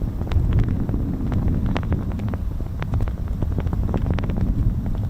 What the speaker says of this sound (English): It's a little bit windy, Ted.